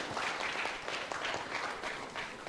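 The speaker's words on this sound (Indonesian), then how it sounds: "Kita kasih tepuk tangan dulu dong." Audience applause at a local media summit learning session, a steady broadband patter of clapping filling the room without pause, moderately loud and even throughout.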